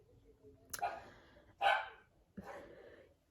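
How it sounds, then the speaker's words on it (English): A dog barks three times in short, sharp bursts, spaced unevenly, somewhat distant and moderately loud, with no one talking. "That's my dog barking."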